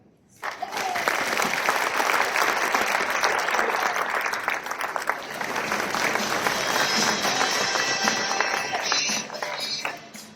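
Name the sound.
audience applause at a strategic plan event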